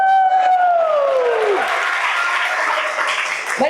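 Audience clapping at a school life-skills festival event, a broad wash of applause starting right away and holding steady and fairly loud for several seconds, with a falling whistle-like tone fading out early on.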